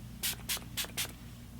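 A handheld spray bottle spritzes facial mist four times in quick succession, each spray a short close hiss over a faint low hum.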